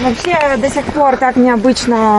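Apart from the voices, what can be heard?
No everyday noise stands out behind the speech.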